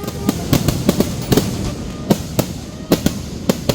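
Fireworks at a Kerala temple festival (pooram) go off as a rapid, irregular string of sharp cracking bursts, loud and close, with a steady crackling background between the louder bangs.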